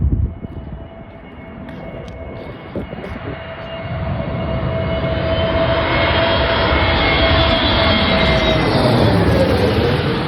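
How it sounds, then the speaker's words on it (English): A Jetstar A321 airliner from Perth approaching Adelaide Airport to land, its jet engine roar swelling from a distant whine into a loud, broad rumble that keeps building as it passes close overhead. "Jetstar A321 from Perth coming in"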